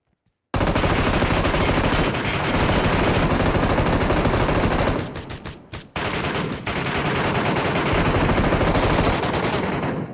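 Sustained automatic gunfire from the video game PUBG Metro Royale, loud and dense rapid bursts lasting most of the time, briefly breaking off midway into a few separate shots before the firing resumes.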